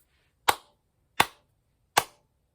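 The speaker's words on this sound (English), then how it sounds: "Am I clapping A or B?" Three sharp, isolated hand claps, evenly spaced and close, played as a rhythm for a music theory listening exercise in an otherwise quiet room.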